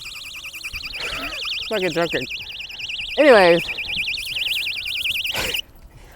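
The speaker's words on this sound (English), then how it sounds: "I just brought this fucking little alarm." A small keychain personal alarm shrills continuously, a loud warbling electronic siren close by, cutting off abruptly near the end while someone talks over it.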